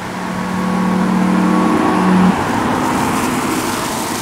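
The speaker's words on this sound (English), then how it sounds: "below 20 mile an hour, the Zoe will also make an artificial noise" A steady artificial low-speed pedestrian warning hum from a Renault Zoe ZE50 electric car, close and fairly loud over road noise, cutting off about halfway through.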